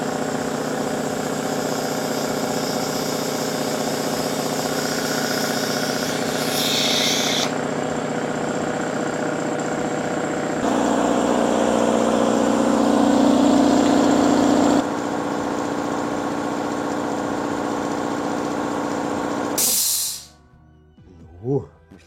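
An air compressor with a 115-litre tank runs loud and steady as it fills, its motor drone changing pitch in stages before it cuts off abruptly near the end, leaving near silence.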